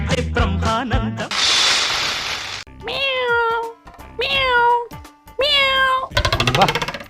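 A man on a cooking show imitates a cat, giving several drawn-out, loud meows with short pauses between them, after a brief stretch of speech and a burst of noise.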